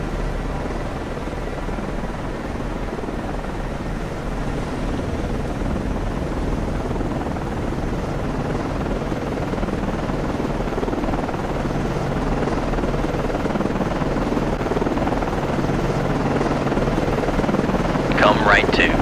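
Steady helicopter rotor and engine drone in the naval submarine game Cold Waters, loud and continuous throughout with a constant low rumble.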